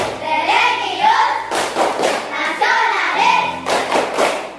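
A group of schoolchildren performing the PPK clap chant, rhythmic bursts of clapping and thumping in a repeating pattern, woven between loud chanted voices.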